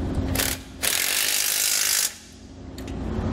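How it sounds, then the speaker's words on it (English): Ratchet wrench with 13 mm and 14 mm sockets tightening bolts on an ATV winch mount plate on a 2016 Polaris Ranger, two close bursts of rapid clicking separated by a short pause, then quiet shop ambience. "Now with a 13 millimeter for the head side, 14 millimeter for the nut side, we'll tighten them into place."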